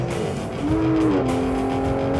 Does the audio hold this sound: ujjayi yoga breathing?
no